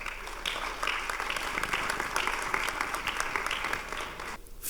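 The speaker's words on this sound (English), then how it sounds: "With a round of applause, Mr. Godwin Afo." Audience at a youth seminar gives a sustained round of applause for a speaker, dense steady clapping from a moderately distant crowd that cuts off abruptly near the end.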